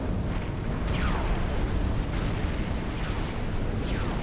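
Artillery barrage in the strategy game Supreme Commander: a dense, continuous rumble of overlapping explosions and booms, with repeated descending whistles of incoming shells cutting through.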